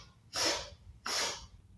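Children in a sky-themed kids' yoga class take sharp, breathy sniffs through the nose as a group. Two strong inhalations about a second apart come through clearly over quiet room noise.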